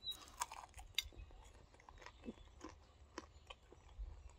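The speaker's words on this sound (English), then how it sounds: "when you chew it up, you've got to have good teeth and you've got to crunch the bones up" Cooked meat bones being chewed and crunched, irregular crackling bites and wet mastication close by, quiet overall with scattered sharp crunches and no talk.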